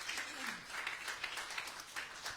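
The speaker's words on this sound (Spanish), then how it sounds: "Dele un fuerte aplauso al Señor" A church congregation claps for the Lord after a prayer, a steady, moderately distant wash of applause that carries through the whole stretch with no voices on top.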